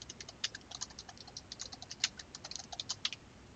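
Fingers type rapidly on a computer keyboard, a quick irregular stream of light plastic key clicks close by with no talking.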